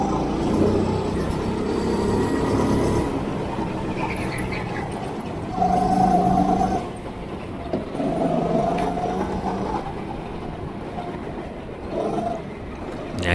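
A go-kart racing down the straight at AusCarts in Port Melbourne, its engine droning steadily and rising as it gains speed, with a mid-clip surge of louder mechanical whine and brief squeals, heard close and continuous without talk.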